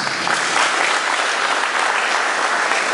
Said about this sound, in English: Can you guys give yourself a big applause?